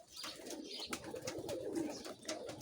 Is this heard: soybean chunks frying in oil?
no